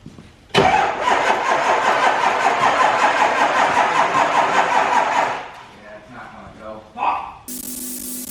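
A 7.3L Powerstroke diesel engine running on only four cylinders cranks and catches abruptly, then runs loud and rough for about five seconds before dropping off, with people talking afterward.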